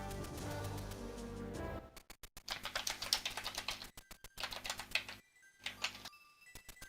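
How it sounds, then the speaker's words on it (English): Rapid, furious typing on a computer keyboard during a Minish Cap randomizer race, dense clattering keystrokes in bursts with short pauses, close and fairly loud, no talking. "We can hear the furious typing."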